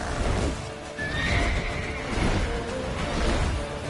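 Geralt's horse Roach in Witcher 3, steady galloping hoofbeats with a whinny, continuous and close under game sound.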